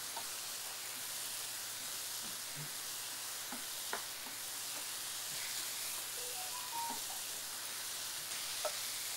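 Ingredients for a cumin curry sizzle steadily in a hot pan, a soft continuous hiss with occasional faint clicks and scrapes of stirring, no talking.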